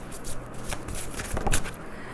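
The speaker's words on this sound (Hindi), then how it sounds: "मैं पहले कार्ड्स निकाल लेती हूँ" Tarot cards being drawn and shuffled from a deck, a close, steady papery riffling and sliding that swells briefly near the end, alone without talking.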